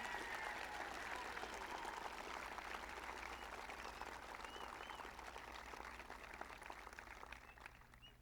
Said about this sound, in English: let's give them a big hand of applause.